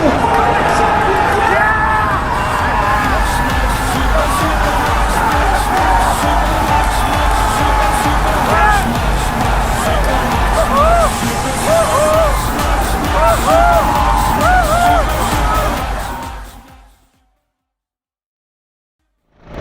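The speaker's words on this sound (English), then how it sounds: "the crowd goes absolutely ballistic" A large crowd roars and cheers continuously and loudly at a karting race at Ridge Motorsports Park, with a dense wash of babble and shouting that holds steady before cutting off abruptly near the end.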